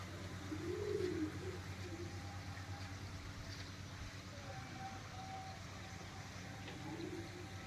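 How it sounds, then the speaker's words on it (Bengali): Pet pigeons coo softly at a cottage retreat, with a low rolling coo near the start and another near the end. A steady low ambient hum runs underneath. "এখানে ওনাদের পায়রা আছে কিছু পোষা।"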